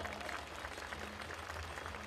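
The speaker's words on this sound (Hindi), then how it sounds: "बजा दो आप भी तालियां लगा के पूरा जोर" An audience applauds steadily as guests walk onto a stage at a spiritual event, a dense, even wash of clapping that sounds somewhat distant and muffled throughout.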